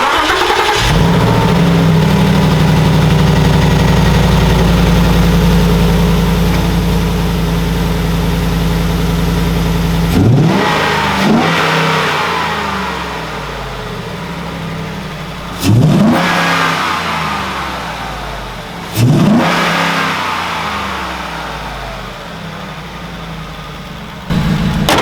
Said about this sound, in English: Marshall, ready to feel this BB&K throttle body?